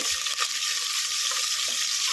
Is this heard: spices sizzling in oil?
yes